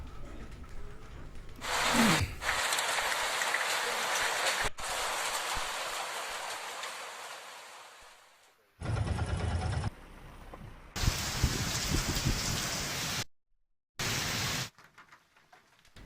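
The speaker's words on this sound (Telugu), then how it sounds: "మరికొన్ని చోట్ల ఎడితెరిపి లేకుండా భారీ వర్షం కురిసింది" Heavy rain pours down during a hailstorm in Telangana villages, a dense, loud, hissing roar heard in several abrupt segments separated by brief near-silent breaks.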